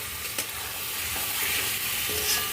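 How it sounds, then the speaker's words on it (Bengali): Cottage cheese balls being stirred as they fry in cooked spices, a steady broadband sizzle with a few faint scraping stir strokes, close and continuous with no talk. "Now I will just add the balls. You have to stir it carefully, or otherwise they will break."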